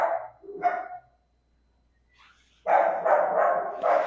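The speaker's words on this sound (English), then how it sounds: "my dog is going crazy barking" A pet dog barks indoors near an open patio door: a couple of sharp barks, a brief pause, then a loud run of rapid, close barking.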